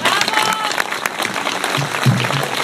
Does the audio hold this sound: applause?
yes